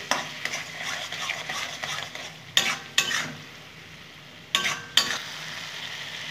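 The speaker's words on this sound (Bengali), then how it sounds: "এটার সাথে আমি এখন ভালো করে নেড়ে নেব" A spatula stirs mashed eggplant in a pan, giving a soft bubbling sizzle with four sharp scraping strokes that come in two pairs, close and clear, no talk.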